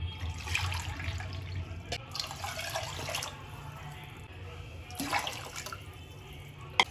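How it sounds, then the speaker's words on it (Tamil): Water poured from a bowl into rice in a pressure cooker pot for garlic kanji, splashing in a few separate bursts with quiet gaps between, close and moderately soft. "3 பவுல் தண்ணி ஊற்றிக்கலாம்."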